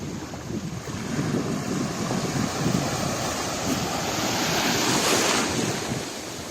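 Steady rushing of sea waves at a beach with strong wind buffeting the microphone, a continuous loud wash of water and air throughout.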